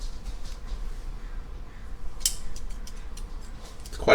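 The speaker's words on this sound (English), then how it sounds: "Ever seen a scissors that cuts things like this?" Several short, sharp snips of scissors cut through a quiet room, irregularly spaced with faint clicks between them.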